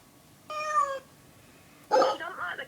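A toy plays a cat meow sound twice, a clear mid-length meow followed by a harsher, noisier yowl, close and fairly loud in a quiet room.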